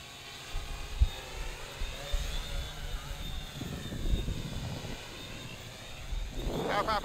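A homemade 3D printed quadcopter styled after the DJI Inspire One flies nearby, its steady motor and propeller whine running throughout with some bumps and rumble, louder toward the end.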